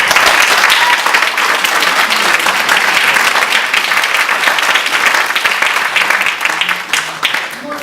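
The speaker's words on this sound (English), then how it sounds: "So one more round of applause." A large audience at an awards ceremony applauds steadily for several seconds, dense clapping that fades slightly toward the end.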